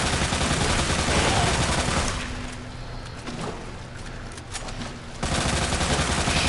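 Bursts of rapid gunfire from the Resident Evil 2 video game aimed at a large monster. Loud sustained fire runs for about two seconds, drops to quieter sound, then returns loud near the end, with some talk mixed in.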